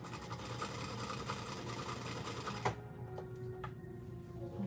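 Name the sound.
sewing machine stitching a girl's dress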